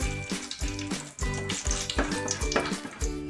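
Cardamom pods and cloves frying in hot oil for an aloo paneer curry, close crackling sizzle with rhythmic stirring scrapes repeating every half second.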